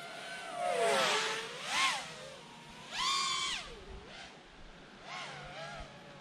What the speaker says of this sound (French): les moteurs sont vraiment excellents. Petit E-Flight 2306